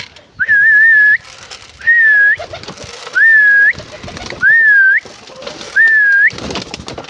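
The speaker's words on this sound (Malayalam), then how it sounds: "ഇതൊരു പറവ പ്രാവ് കേട്ടോ" Pigeons at a village home give five separate smooth rising whistle-like calls, evenly spaced over several seconds, fairly close and clear against a quiet background with faint rustling.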